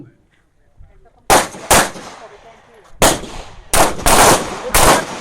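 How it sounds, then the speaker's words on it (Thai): Rifle fire on a shooting range during a live-fire drill: sharp, loud individual shots in an irregular sequence of about six cracks, some closely paired, after a quiet moment with a faint voice at the start. "เริ่มยิง"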